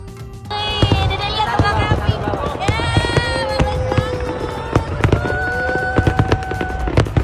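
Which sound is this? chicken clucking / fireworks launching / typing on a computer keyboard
fireworks launching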